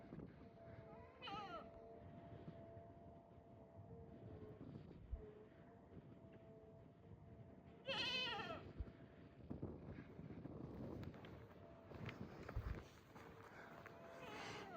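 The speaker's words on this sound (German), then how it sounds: "So, die Ziege da hinten macht Alarm." A goat bleats from a distance near a Grand Canyon campsite, two wavering calls a few seconds apart, over low background rumble and some quiet movement.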